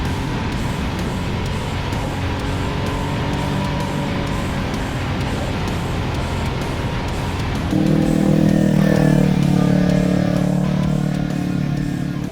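A motorcycle engine hums steadily, then revs louder and higher partway through as the bike accelerates, staying close and continuous.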